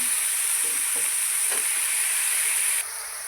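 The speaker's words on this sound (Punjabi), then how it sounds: "ਪਹਿਲਾਂ ਅਸੀਂ ਥੋੜਾ ਜਿਹਾ ਇਹਨਾਂ ਨੂੰ ਸੇਕ ਲਵਾ ਲਾਂਗੇ ਸਬਜ਼ੀਆਂ ਨੂੰ" Mixed vegetables, carrots, beans, potato, cauliflower and eggplant, frying in a pan with a constant bright sizzle and a few soft stirring knocks, dropping slightly quieter near the end.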